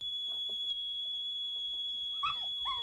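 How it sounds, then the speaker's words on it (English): A dog in a horror movie gives soft, high whimpering whines near the end, close but fairly quiet, under a steady piercing high-pitched tone and a low background hum. "The dog's back and it's whimpering though."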